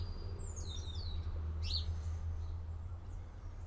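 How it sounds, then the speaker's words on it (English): Birds singing outside by a porch, a few quick chirps and warbling tweets at moderate distance over a low steady hum. "you hear the birds singing"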